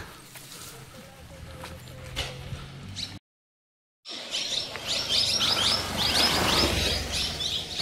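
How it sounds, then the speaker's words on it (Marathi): Dense, shrill chirping of many birds, parrot-like squawks included, fills a forest along the Narmada between Kundi and Pipri after a brief silent gap; quieter rustling ambience before. "पक्ष्यांचा एकदम किलबिलाट छानसा आवाज."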